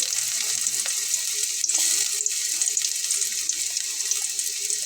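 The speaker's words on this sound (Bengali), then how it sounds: "আমি এখন এখানে রসুন আর পেঁয়াজ কুচি করে নেওয়াটা দিয়ে নিচ্ছি" Chopped garlic and onion fry in a hot pan for sour green mango dal, giving a steady, close hiss of sizzling with faint stirring scrapes throughout and no voices.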